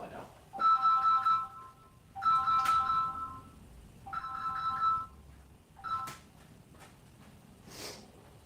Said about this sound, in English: All right, phone ring.